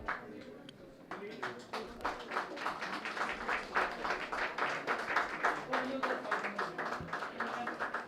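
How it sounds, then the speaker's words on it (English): An audience at a school art teachers' exhibition and awards event gives artist Gurmeet Goldie a fairly faint, steady round of clapping that continues evenly and builds slightly. "a heartfelt, reverberating round of applause for artist Gurmeet Goldie"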